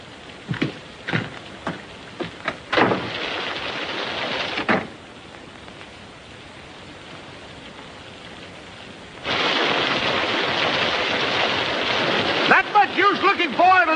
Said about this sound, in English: till this storm blows over